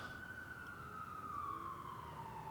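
An emergency vehicle siren passes outside, heard faint and distant as a single sustained wailing tone that slowly drops in pitch as it moves away, over a low rumble of traffic.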